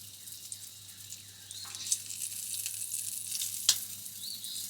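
Bacon sizzles quietly on a griddle in a steady, soft crackle, with a few brief scrapes and clinks from cooking utensils.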